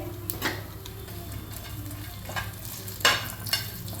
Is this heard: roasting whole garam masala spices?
yes